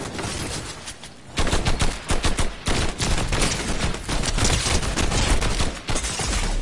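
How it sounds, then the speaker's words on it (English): Fortnite gunfire rattles in fast, loud bursts of repeated shots that keep going almost without a break, with no voices over it. "Oh, I'm taking shots."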